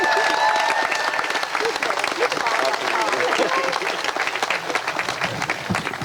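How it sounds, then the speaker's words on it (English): A crowd at a statue unveiling ceremony honoring Dawn Staley claps steadily and loudly throughout, with scattered cheers and crowd voices mixed into the applause. "Clap it up."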